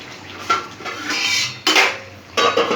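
A lid is set over a pan of pomfret fish curry in mustard oil, several close metallic clanks and rattles in quick succession against the pan rim, with no talking.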